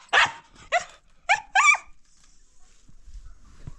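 A dog gives four quick, close barks in a short burst, then falls quiet, leaving faint low rustling behind.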